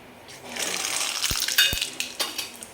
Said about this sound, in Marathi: इकडं कढईमध्ये आपण तेल टाकलेलं आहे तर आपण आता जिरे टाकून घेणार आहे त्याच्यामध्ये सगळ्यात अगोदर मोहरी टाकते थोडीशी